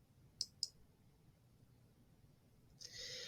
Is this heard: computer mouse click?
yes